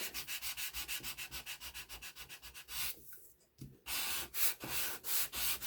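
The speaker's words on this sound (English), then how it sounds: "Sometimes when I'm sanding, I use my sanding block probably every day." Rhythmic, close scraping of a sanding block rubbed back and forth in quick strokes, pausing briefly before resuming.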